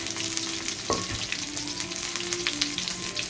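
Thai curry paste stir-fried in oil over low heat: a loud, dense crackling sizzle runs throughout, with a sharp utensil knock near the start and scraping stir strokes mixed in.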